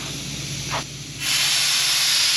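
Harbor Freight sandpot sandblaster hissing with compressed air, a brief puff first, then a loud steady broadband hiss that opens up and holds.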